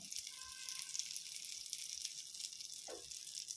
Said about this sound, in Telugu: ఇప్పుడు పన్నీర్ ముక్కల్ని వేయించుకోవాలి